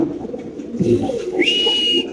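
A close, hand-held racer pigeon gives soft, low cooing, with a thin whistle-like tone partway through.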